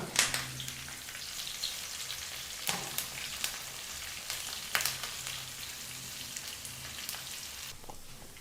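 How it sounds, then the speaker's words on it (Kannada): A tempering of curry leaves and red chillies fries on a low flame for Andhra-style gongura chutney, giving a soft continuous crackling sizzle with scattered sharp pops and a few stirring scrapes, close up, no speech. "ಲೋ ಫ್ಲೇಮ್ನಲ್ಲೇ 1 ನಿಮಿಷದವರೆಗೂ ಇದನ್ನು ಫ್ರೈ ಮಾಡ್ಕೋಬೇಕಾಗತ್ತೆ ಎಲ್ಲ ಪದಾರ್ಥನ."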